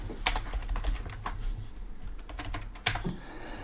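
Password keyed in on a computer keyboard for a Dropbox sign-up, a close run of separate key taps with uneven spacing and a sharper clack near the end, no voices.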